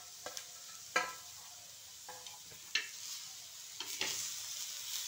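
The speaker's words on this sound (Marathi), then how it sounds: "चांगला ब्राऊन कलर होईपर्यंत आपण चांगला परतून घ्यायचा मसाला" Masala sizzling in a pan as it is sautéed until brown, with tomato, garlic and ginger, for dhaba-style shev bhaji; a steady fry hiss broken by sharp scraping strokes of a spoon, close and moderately loud.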